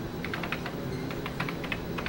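Typing on a Commodore 64 keyboard: a run of distinct clicky keystrokes in two quick bursts with a short pause between, close and clear over a low steady hum.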